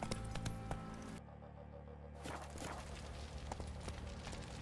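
Horse hooves clip-clop at a steady gait in The Witcher 3, a rhythmic thudding under a dense game soundtrack and ambience, with a brief dip in the background partway through.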